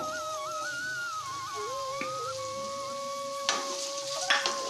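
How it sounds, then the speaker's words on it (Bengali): Cashews, raisins and paneer fry in oil with a faint, steady hiss. Sustained tonal whistling or melody lines sit over it, and a few brief clatters come near the end. "কাজু কিশমিশের পনির অল্প করে তেলেতে ভেজে নেব"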